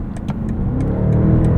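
A 2024 BMW X6 M60i's 4.4-liter twin-turbo V8 revs hard and rises steadily in a deep, throaty roar as the vehicle accelerates, loud and close, with faint clicks on top.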